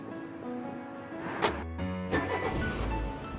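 A 2014 Jeep Grand Cherokee heard up close, with a steady car hum, a whirring power window or motor, and a few short clicks and thumps.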